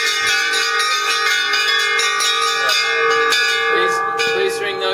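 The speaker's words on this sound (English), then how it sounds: "Please ring those bells to celebrate New Year's." Several bells, including hand-struck pole bells, rung with mallets to celebrate New Year, with overlapping metallic strikes and long ringing tones that sustain and layer throughout.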